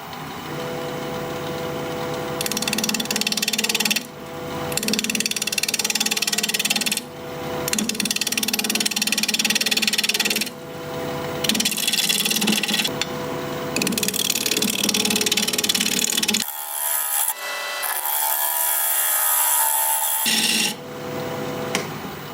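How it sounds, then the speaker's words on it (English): A 5/8 inch bowl gouge cuts a walnut bowl spinning on a lathe at 1100 RPM, a loud steady scraping whir in long passes broken by brief pauses, with one quieter, thinner stretch near the end. "We're going to be turning at 1100 RPM, 5/8 inch bowl gouge"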